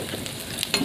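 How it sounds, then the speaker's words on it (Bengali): Dried red chillies and panch phoron five-spice sizzle in hot mustard oil in a kadai. A short, close burst of crackling and spitting with a stir-like scrape, no voices. "গরম তেলের মধ্যে দুটো শুকনো লঙ্কা আর দুটো পাঁচ ফোড়ন দেবো"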